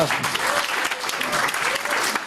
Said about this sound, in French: On applaudit les Negitachi